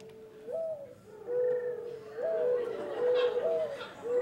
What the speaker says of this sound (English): I love the sound of doves cooing in the aviary.